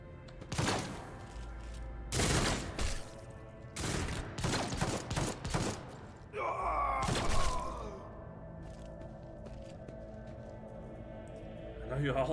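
Sharp bursts of gunfire ring out in the video game Rogue Trader during a shipboard insurrection, several loud separate volleys with short gaps, one trailing into a ringing echo, while voices speak between the shots.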